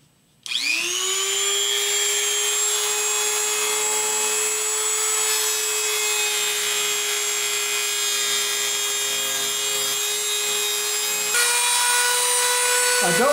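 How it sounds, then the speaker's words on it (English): A Dremel rotary tool trimming off a wooden peg set in a knife grip made from a rusted tiller point: a steady, loud high-pitched whine that runs continuously, shifting pitch slightly near the end before stopping. "We'll go ahead and trim it off with a Dremel."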